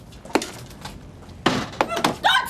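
Sledgehammer breaking up concrete outdoors in a residential street, heard as a series of sharp, cracking thuds with irregular rhythm, moderately loud and close, alone with no talking.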